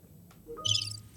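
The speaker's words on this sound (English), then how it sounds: "So use the cricket button." Cricket chirping sound effect triggered from a soundboard button, a short bright burst of trilling chirps lasting under a second, heard alone without talk.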